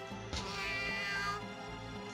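A cat meows once in the video game Star Ocean: First Departure, a drawn-out tonal cry over a steady humming game soundtrack, moderately quiet and alone without talk.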